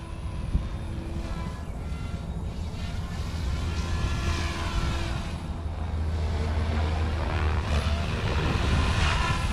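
An OMP Hobby M4 or Goosky RS4 RC helicopter in forward flight gives a steady, buzzing rotor whine that swells and fades as it passes, with a constant mid-level loudness throughout.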